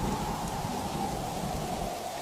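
Heavy rain pours steadily in a cartoon scene, a dense continuous hiss with a low rumble underneath, loud and even throughout with no voices.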